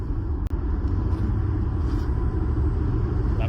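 Low steady rumble of road and cabin noise inside a Tesla Model Y Standard electric car as it accelerates, with a brief click early on and no engine note.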